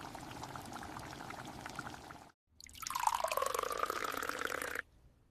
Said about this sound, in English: I make a cup of tea